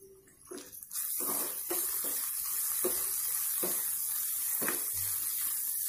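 Bitter gourd with turmeric sautéing in a hot pan for a thick thokku, a steady close sizzle with a few soft stirring scrapes and clatters and no voices.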